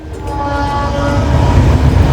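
A loud express train, the Kashi Express from Gorakhpur to Mumbai, rushes past close by near Manmad junction, its horn sounding a sustained chord over the growing rumble of the wheels and cars.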